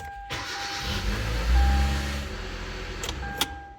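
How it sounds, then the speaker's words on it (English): A 2012 Hyundai Accent engine cranks and catches, then settles into a steady low idle rumble with a faint whine, close by, with a couple of brief clicks near the end. "I'll go ahead and start the car, let it run for about 15 seconds and then turn it back off"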